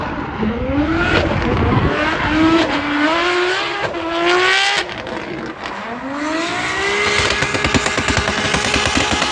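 Race car with a 2JZ engine making 800 to 900 hp at a drift event, loud engine revving and rising through repeated acceleration sweeps, with bursts of tire squeal and a rattling limiter near the end, close by.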